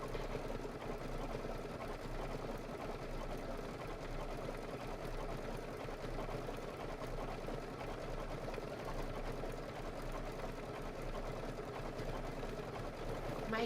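A sewing machine runs steadily and continuously at a moderate, even pace, a soft mechanical hum and whir with no breaks.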